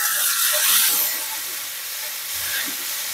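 Chopped tomatoes dropped into a hot frying pan with spices and half-fried onions, giving a bright, steady sizzle and hiss that swells briefly near the start and then settles into a continuous crackle, with no talking.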